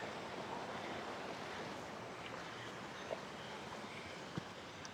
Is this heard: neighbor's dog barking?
no